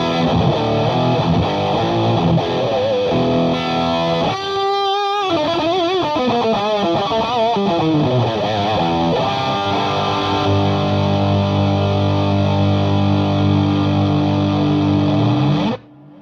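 Electric guitar through a Strymon Sunset pedal combining germanium overdrive with hard clipping drive: a thick, loud, saturated tone with chords, bends and sliding notes, ending on a long sustained chord that stops abruptly.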